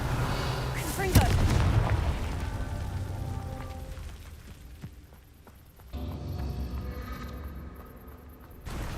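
In Hogwarts Legacy, a Confringo fire spell blast goes off as a sharp booming impact with a rumbling tail, followed by quieter game ambience and scattered thuds. A voice talks over part of it.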